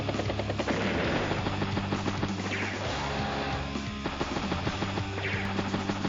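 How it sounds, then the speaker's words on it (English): Machine gun fire in Advance Wars: Days of Ruin, a steady rattling stream of shots over continuous game music and rumble, moderately loud with no talk. "Even put some machine gun rounds in the anti-air, finish it off"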